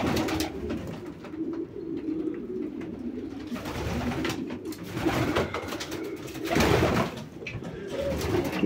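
Pigeons in a loft holding unflown late-hatched birds and females, with soft low cooing coming in repeated rounded bursts from several birds nearby, plus faint rustling and no talking.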